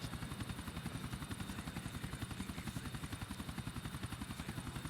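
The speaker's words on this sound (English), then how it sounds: "if I was working on one of these tall high rises and I literally saw a helicopter flying past my window like that close" Helicopter in the video game GTA4 flying close past high-rise buildings, its rotor making a steady, rapid chop of evenly spaced beats over a loud, continuous hum that holds for several seconds with no talk.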